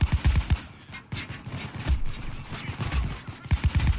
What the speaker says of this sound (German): ich schieß schon die ganze Zeit